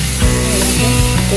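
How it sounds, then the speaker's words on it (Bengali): Spice paste for a rita fish curry sizzles loudly and steadily in a hot pan as it is sautéed, with a few scraping stirs breaking through the continuous hiss. "কষিয়ে নিচ্ছি।"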